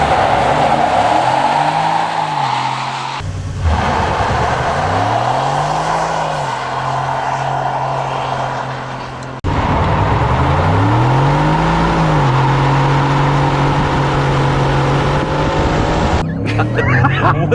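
A Ford F-150 XLT pickup with a 5.0 V8 accelerates hard in sport mode, engine pitch climbing through repeated upshifts with brief dips between gears, loud and close from inside the cab, with occasional voices.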